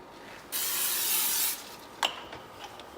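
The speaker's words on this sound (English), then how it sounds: "Spray a little more, because we want that good toastiness on our buns." Cooking spray from a can is misted onto a hot pan on medium-high heat before toasting burger buns: one loud, steady hiss lasting about a second, then a short clack and faint sizzle.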